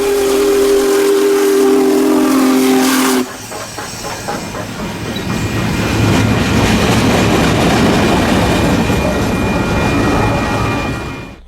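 Union Pacific Big Boy 4014 steam locomotive sound from a Tsunami2 model-railroad decoder: a loud steam whistle blast, then hissing steam and chuffing exhaust building into a steady rushing roar, with no voices.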